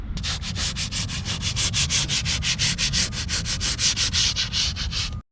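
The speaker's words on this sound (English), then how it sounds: "as soon as she heard me sanding out here" Rhythmic sanding strokes on a wooden boat, a steady back-and-forth scratching rasp repeated around twenty times at an even pace, close and loud.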